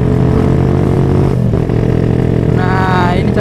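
A motorcycle fitted with a racing exhaust rides along a busy road, its engine droning loudly and steadily up close, with a brief shift in tone near the end.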